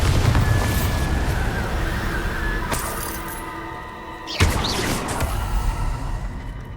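A Bombarda spell explosion in the video game Hogwarts Legacy: a sudden, loud, booming burst partway through, cutting over a continuous layer of in-game music and ambience.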